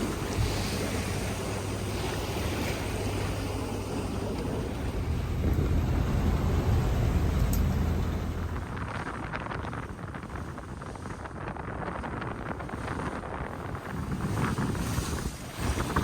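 Wind rushing over a sailboat under sail in Arctic waters off northern Norway, roughly 16 knots, with steady gusting buffeting the microphone, water washing along the hull and a low rumble throughout, without speech.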